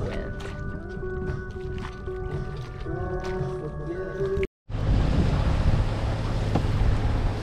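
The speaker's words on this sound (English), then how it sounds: "Here's the wind." Wind roars and buffets the microphone aboard a sailboat off the coast of Dominica as a squall arrives, with water and hull noise and a brief dropout, loud and constant throughout.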